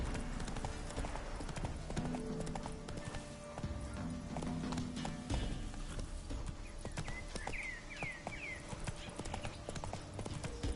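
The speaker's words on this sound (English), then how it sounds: "Run, Roach." The horse Roach gallops in The Witcher 3 next-gen update on PS5, steady clip-clop hoofbeats continuing under game music and ambience, with a brief whinny near the end.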